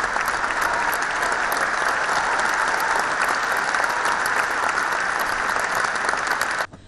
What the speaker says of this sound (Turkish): Göbekli Tepe, binlerce izleyicinin ayakta alkışını aldı.